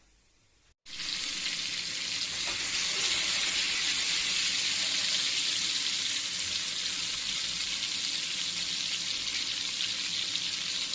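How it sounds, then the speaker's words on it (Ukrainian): After a brief quiet start, cutlets hit the pan and a loud, even frying sizzle takes over, hissing steadily without pause. "От тако я смажу. Спочатку обсмажую все."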